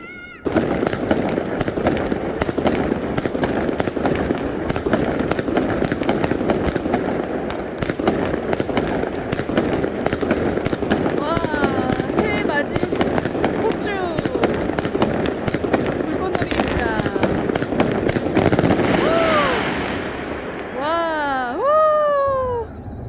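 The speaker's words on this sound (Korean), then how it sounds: "새해 맞이 폭죽이었습니다." New Year fireworks in an apartment complex in Moscow crackle and pop continuously in dense rapid bursts, with whistling rockets near the end and people's voices faintly mixed in.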